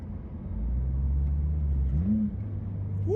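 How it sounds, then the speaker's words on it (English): Low, throaty rumble of a 2022 Subaru WRX with a custom catback exhaust, the engine note dropping then sharply rising in pitch as it downshifts, heard up close from inside the car. "Woo! That downshift."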